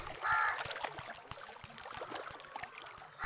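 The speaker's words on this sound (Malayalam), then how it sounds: "അങ്ങനെ കര കണ്ടെത്താനായി നൂഹ് നബി ഒരു കാക്കയെ പറഞ്ഞുവിട്ടു." A crow caws a few times, harsh and fairly close, with the loudest calls near the start and a last one at the end, over a faint watery background.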